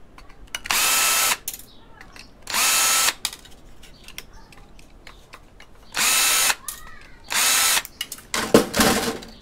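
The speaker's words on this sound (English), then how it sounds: "just got to get a little screwdriver, unscrew." Power screwdriver or drill unscrewing fasteners from scrap medical equipment, four loud whirring bursts of a second or so each separated by pauses with small handling clicks, ending in a rougher ratcheting burst, close up and alone.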